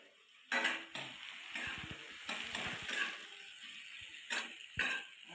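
Onions fry in a pan with a soft sizzle while a utensil stirs and scrapes, giving several sharp metallic clinks over the quiet hiss.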